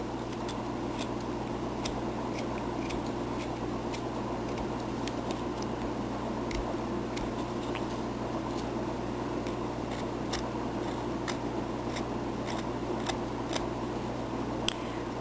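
Scissors trim a paper cone clown's hat with a series of crisp, irregular snips over a steady hum of background noise. No one speaks.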